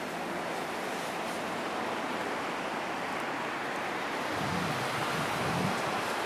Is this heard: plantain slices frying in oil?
no